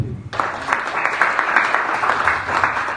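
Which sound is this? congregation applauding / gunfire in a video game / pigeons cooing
congregation applauding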